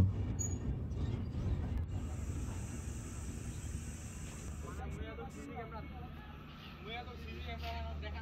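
A passenger train on the Dinajpur to Panchagarh line rumbles along with a low continuous roar and a steady clatter, heard close from inside the train, with a high squealing tone partway through and a voice talking over it.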